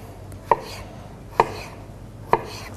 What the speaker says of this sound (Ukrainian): Кубиками нарізаємо огірок.